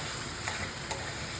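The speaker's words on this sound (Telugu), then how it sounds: "ఇలాగ ఆయిల్లో మసాలా కూడా వేయించుకోవాలండి." Masala spices fry in hot oil for a mushroom curry, giving a steady, dense sizzle with faint stirring scrapes, close and continuous, with no talking.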